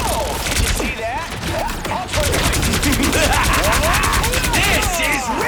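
Rapid video game gunfire from a competitive ranked shooter match, fast automatic bursts rattling almost without a break for several seconds, loud and close, with other game effects layered underneath and a voice talking over the shooting.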